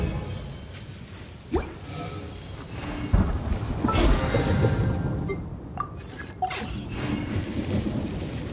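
A stormy day in Genshin Impact brings steady rain with deep rolling thunder, a low rumble building and swelling in the middle, plus scattered crackles and clinks through the downpour.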